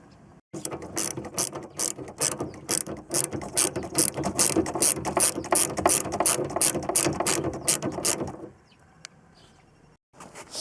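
A hand ratchet clicks in rapid, rhythmic bursts at close range while bolts are backed out of a Lotus Excel door, then falls quiet near the end.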